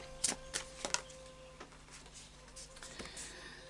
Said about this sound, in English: And a final shuffle then of the Anarchy Tarot.